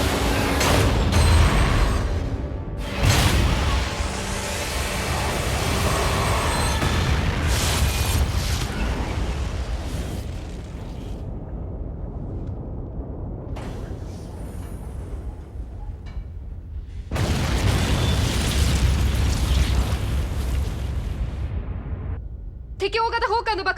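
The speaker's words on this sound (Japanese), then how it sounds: "敵大型砲艦の爆発を確認。" Explosion of a large enemy gunship in the 2010 sci-fi film Space Battleship Yamato: loud, roaring broadband blasts that swell and rumble, ease into a quieter stretch, then surge again.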